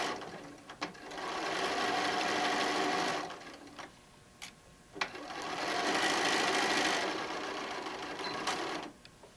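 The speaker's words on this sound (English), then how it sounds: "So we're going to do our 1 inch seam. And we're just going to sew across." Sewing machine running a 1 inch seam across a fabric wine bottle bag with zippered handles, two long steady whirring runs separated by a short pause with small clicks, close and alone.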